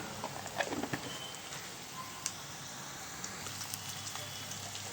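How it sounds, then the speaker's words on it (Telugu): Onion and ginger paste frying in a pan for a fish egg fry, a soft, continuous low sizzle with scattered small pops and crackles, faint and steady throughout. "ఇప్పుడు మనం ఏం చేద్దామంటే అల్లం పేస్ట్ వేసి వేయించుకున్నాము."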